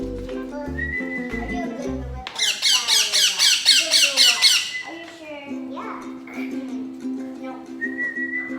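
Parrots squawking while being fed, a loud rapid run of harsh pulsing squawks in the middle, with whistled bird notes before and after and a voice nearby.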